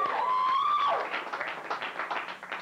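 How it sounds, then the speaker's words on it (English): Studio audience at a late-night cable talk show in Whitewater applauding, dense clapping that swells and tapers, preceded by a brief whistling tone, fairly loud and without talk. "Give yourselves a round of applause."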